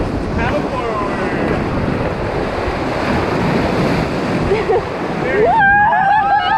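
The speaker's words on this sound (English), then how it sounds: "this is a pretty big rapid we're about to do" Roaring whitewater of a big river rapid in Denali, Alaska, steady loud rush of surf and spray splashing around a raft, with wind buffeting the microphone and a voice calling out near the end.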